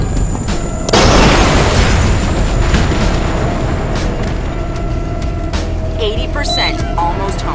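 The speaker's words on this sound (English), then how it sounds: "Flash grenade!" A flash grenade detonates in a combat video game with a sudden loud boom, then a long ringing, rumbling aftermath while voices shout over the chaos.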